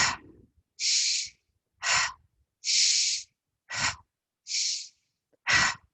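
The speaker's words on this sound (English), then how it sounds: "Breathing in through the nose." Deep breathing during a guided mindfulness exercise: four long, steady inhales through the nose alternate with short, sharp exhales, each breath close and distinct, separated by near silence.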